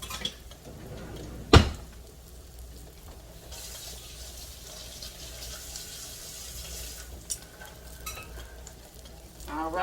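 Pork chops sear in a hot skillet with a constant soft sizzle, broken by a sharp clank of the pan near the start and a few faint scrapes and knocks.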